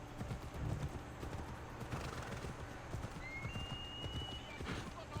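Rhythmic clip-clop of horse hooves trotting, steady and fairly close, with a brief whinny amid a busy game soundscape in Assassin's Creed Odyssey.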